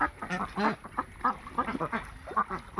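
A flock of farm-raised ducks quacks and chatters in rapid overlapping calls, nearby and steady, with no voices heard.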